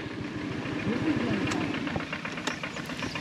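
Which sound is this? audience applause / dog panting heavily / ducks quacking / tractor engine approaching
tractor engine approaching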